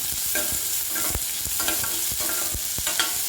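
Onions sautéing in a pan for a vendakkai (okra) dish, a loud, close, continuous sizzle with repeated scraping thumps from a stirring spoon.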